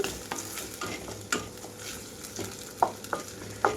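Onions with ginger-garlic paste fry in a pan for a cluster beans and egg curry, giving a steady close sizzle broken by several sharp stirring scrapes and clicks toward the end.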